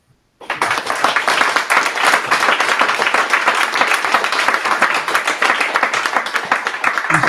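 A crowd at a tech conference talk on the CNCF platform engineering maturity model breaks into a loud, sustained round of applause that starts abruptly after a brief silence and holds steady to the end.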